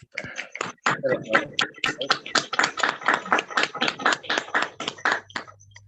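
Audience applause for teachers at a workshop session on state workers' rights: a dense, steady burst of many hands clapping in a room, lasting several seconds before tapering off.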